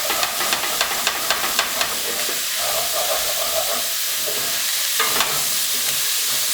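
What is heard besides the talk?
onions and celery cooking in broth, scraped and stirred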